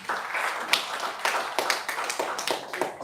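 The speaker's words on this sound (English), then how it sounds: "First clap for me" Scattered clapping from a small audience at a wellness talk, a handful of distinct sharp claps with a few louder ones standing out, fairly quiet and uneven in rhythm.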